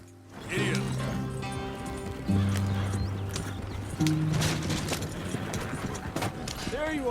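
Horse hooves clip-clop in Red Dead Redemption 2 as a rider sets off, a loud rhythmic trotting with tack rattles and brief whinny-like tones, continuing steadily over the game's ambient sounds.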